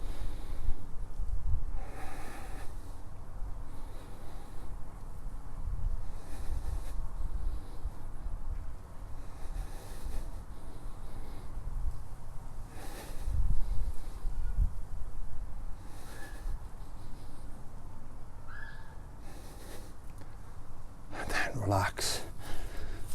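Slow, steady breathing through the nose during a held hip mobility stretch for grappling, soft inhales and exhales repeating over a muffled background, with occasional quiet sounds from the person.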